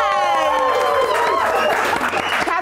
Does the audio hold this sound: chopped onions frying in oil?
no